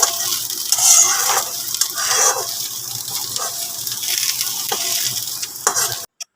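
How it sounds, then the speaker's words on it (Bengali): Onion and soybean chunks fry in a pan with a continuous, fairly loud sizzle and some stirring scrapes. The sound cuts off abruptly near the end. "পেঁয়াজটা হালকা ভাজা ভাজা হলে আমি সয়াবিনটা দিয়ে দিয়েছি।"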